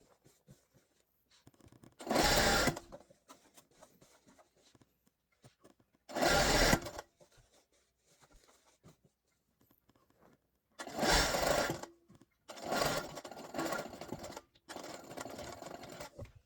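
Sewing machine stitching the seams of a drawstring pouch: a topstitch 3 mm from the edge and two seams forming the cord channel. Five separate runs of steady, loud mechanical whirring, each a second or two long, with short quiet gaps between them.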